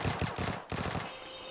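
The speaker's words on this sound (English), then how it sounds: "I hear gunshots." Rapid automatic gunfire in the battle royale game PUBG, a quick burst of several shots heard from a distance, muffled and fairly faint, ending in a short trailing echo.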